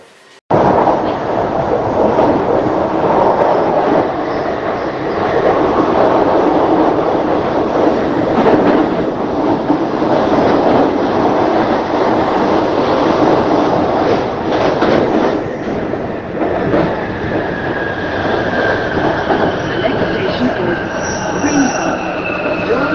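A London Underground train runs toward a Piccadilly line change, a loud steady rumble of wheels and carriage noise with rattles and a rising squeal of wheels near the end, heard from inside the car.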